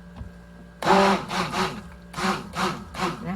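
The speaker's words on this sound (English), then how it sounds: "And then I'm going to take my stick blender." Stick blender whirring in short bursts through lavender and vanilla lotion, three or four close, loud pulses with brief pauses between, after a single spoken word.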